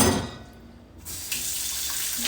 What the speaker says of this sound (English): I'm gonna get another bowl here with water to rinse.